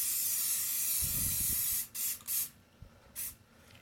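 A spray paint can hisses steadily and loudly up close onto a water surface for hydro dipping a fidget spinner, then breaks into a few shorter bursts as the spraying stops and starts.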